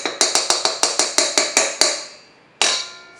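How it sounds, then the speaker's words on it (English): A whisk is knocked against a bowl to free stuck batter: a quick run of about ten evenly spaced sharp taps, a pause, then one last ringing knock, close and clear with no speech. "Now I'm just going to get it all because it's stuck in my whisk."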